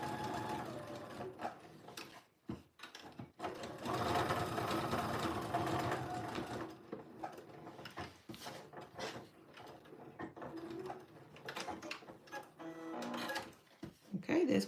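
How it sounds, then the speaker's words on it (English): A sewing machine stitches the facing onto a jeans pocket at an increased stitch length, running in quiet bursts with short pauses, pivots and clicks between runs, fairly faint throughout. "I'm then increasing my stitch length for these last 2 sides."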